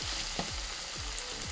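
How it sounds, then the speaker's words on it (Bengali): Onion, garlic and green chili frying in hot oil for an okra dish, a steady close sizzle with a few stirring scrapes cutting through it, and no voices. "এটা একটু ভাজা হয়ে গেল, এর মধ্যে দিয়ে দিচ্ছি পেঁয়াজ, রসুন, কাঁচামরিচ"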